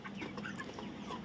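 A flock of 31-day-old broiler chickens on a farm clucks continuously. The dense, overlapping chatter sounds close and steady throughout, with no voices.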